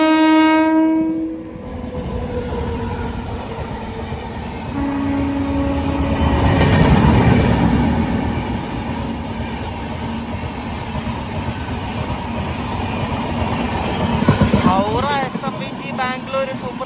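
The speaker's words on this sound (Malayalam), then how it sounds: "ബാംഗ്ലൂർ സൂപ്പർ ഫാസ്റ്റ് ആയി പോകുന്നു കേട്ടോ" A Bangalore superfast express on the East Coast Railway near Bhubaneswar sounds a loud horn blast, then rumbles past close by with a rising roar and rhythmic wheel clatter on the rails.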